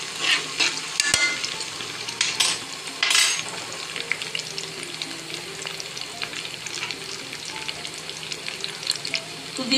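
Onions for the tadka of Punjabi sarson ka saag fry in a pan with a steady close sizzle, broken by the scrape of stirring and a few sharper clatters, with no talk.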